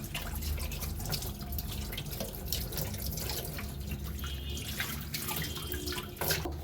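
A brass Kamatchi lamp is washed with water and sacred ash powder: soft running and splashing water with scattered drips and light rubbing, fairly quiet and steady, with no voices.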